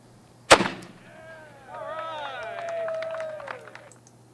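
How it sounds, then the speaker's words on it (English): A Civil War-era cannon fires a single sharp booming blast to open the Chautauqua County Fair, followed by a crowd cheering and whooping at a distance for several seconds. "the Civil War-era cannon you see there symbolizes more than just the start of the fair"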